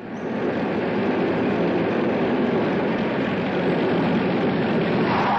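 Airplane engines from the 1970 film Tora! Tora! Tora! make a steady, loud droning roar that holds without a break, and no voices can be heard over it.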